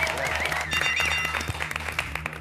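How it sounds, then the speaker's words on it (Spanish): Studio audience applause on an Argentine TV talk show greets actor Luis Brandoni, a scattered run of clapping heard over a tonal music bed and low hum, moderately loud and close. "Pido un aplauso"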